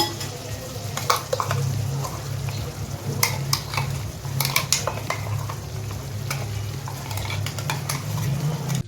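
Poppy seed paste sautéing with prawns in a pan for chingri posto: a steady low sizzle runs throughout, broken by repeated spoon scrapes and clinks against the pan, close and moderately loud, with no talking.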